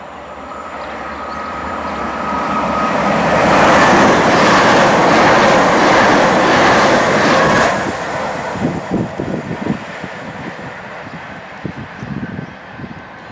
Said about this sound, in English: get a few trains passing through